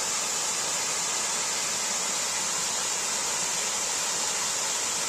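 A waterfall rushes in a steady, dense roar, close and loud, with no pauses and no voices over it.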